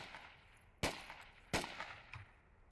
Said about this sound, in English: Wallace and Fozzie trading a little bit of fire, but nothing landing.